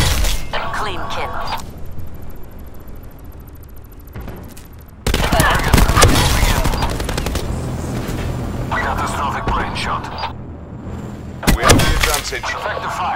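Rapid video-game gunfire in a sniper-nest firefight crackles in bursts, with loud dense volleys around the middle and a sharp burst near the end, mixed under spoken game dialogue.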